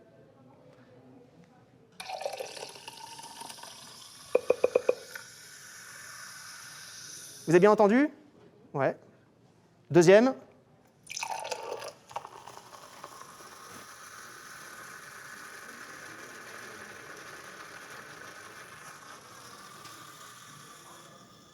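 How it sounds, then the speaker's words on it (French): Bubbles fizz steadily in glasses of sparkling drink, one of them champagne, a soft continuous hiss heard close up and alone for long stretches, broken midway by short bursts of people talking. "Donc 2 types d'effervescence, avec des sons de bulles qui sont différentes."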